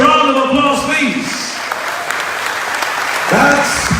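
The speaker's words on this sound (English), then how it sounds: "And we give the graduates a round of applause, please." Graduation ceremony audience applauding the graduates, a broad wash of clapping that fills the hall, with a voice talking over the start and again near the end.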